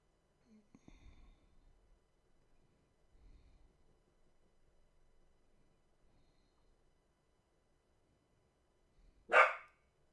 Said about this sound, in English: This dog is killing me.